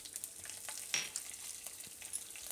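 Green chilies dropped into hot oil with mustard seeds and cumin for a Gujarati papad kadhi tempering, giving a soft continuous crackling sizzle with small pops and spatters, low in level and without speech.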